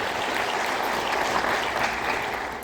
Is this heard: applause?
yes